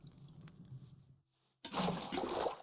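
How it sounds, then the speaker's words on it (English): Water pours out as a source block is placed in Minecraft, a short splashing, gushing burst after a brief quiet, fairly close and moderately loud with no talking. "I at least can make an infinite water source"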